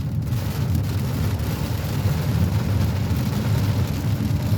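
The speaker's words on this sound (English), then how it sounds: "If you can hear it now, the rain has lowered." Steady rain falls during a thunderstorm, a dense, even wash of noise with a strong low rumble underneath, continuous and close throughout with no voices.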